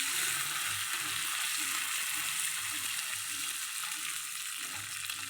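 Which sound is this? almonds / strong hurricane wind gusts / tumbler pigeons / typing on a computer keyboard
almonds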